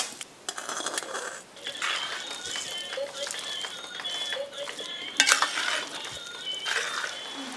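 Spices tempering in hot oil with urad dal for raw jackfruit palya, a broadband sizzle with a few sharp crackles and clinks of a utensil, steady and close throughout.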